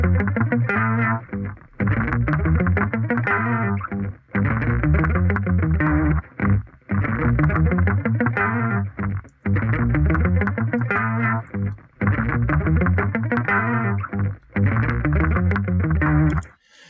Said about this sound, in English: So I came up with this bass line. I used the amplitude and I used a preset called Bass Monster 2.